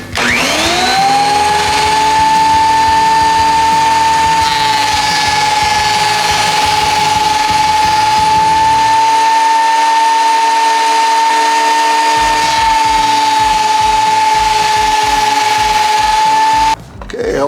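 A thickness planer feeds mahogany boards through with a loud, steady high whine and roar, broken briefly midway as one board exits and the next enters, then cutting off near the end.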